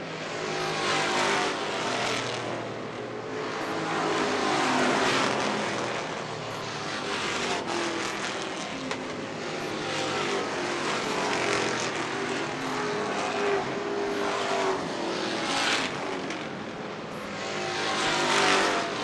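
Race cars roar around a track during a late-race run, engines droning loud and steady with repeated surges as cars pass by, no talk over the sound.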